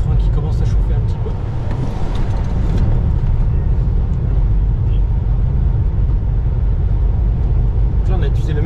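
A Tesla drifting and braking on a race track on Michelin tyres, with steady loud engine and road roar filling the whole stretch and no clear tyre squeal standing out.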